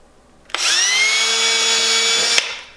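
A power drill bores a mounting hole for a window blind bracket. It gives a loud, steady high-pitched whine that starts abruptly, holds for about two seconds and cuts off, with no other sound around it.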